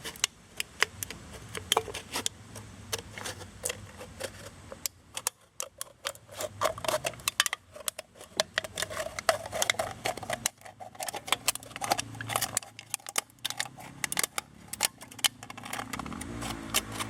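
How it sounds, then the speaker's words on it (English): Scissors cutting through an aluminum can to make an alcohol can stove, a long run of irregular sharp snips and crackling clicks up close, with short pauses between bursts and no talk. "take your scissors and you start cutting"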